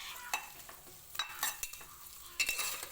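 Onions sizzle softly in a pan while a utensil stirs and scrapes in short bursts, quiet and close.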